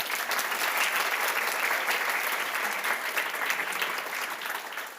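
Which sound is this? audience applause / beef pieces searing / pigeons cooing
audience applause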